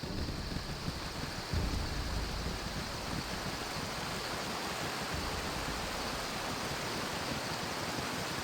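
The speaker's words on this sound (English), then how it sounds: "I hear the sound of a waterfall." A steady waterfall in the Cloud Peak Mountains of the video game Baldur's Gate Enhanced Edition, a constant broadband rush of falling water that holds even and unbroken throughout, with no voices.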